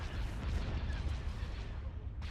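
Starship main cannons firing in a Star Wars Republic space battle game, a continuous deep rumbling barrage of heavy booms with no clear gaps, dense and loud throughout.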